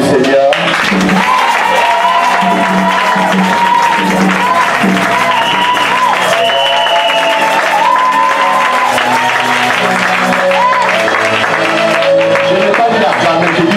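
A church congregation applauds and cheers the Lord in a continuous, loud wash of clapping and crowd noise throughout, with voices mixed in.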